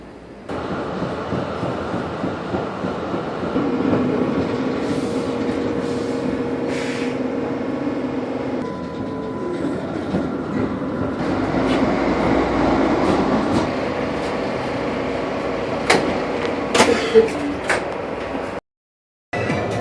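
At a train station in Oslo, Norway, a train rumbles past in a long, steady roar, with a few sharp clunks near the end that sound like doors, and no voices.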